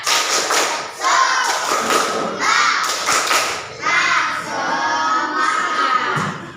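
A primary school class does rhythmic tepuk semangat clapping, heard as bursts of dense hand claps and thumps in a fast repeating pattern, mixed with children's voices and chanting throughout.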